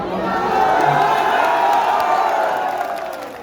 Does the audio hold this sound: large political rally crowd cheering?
yes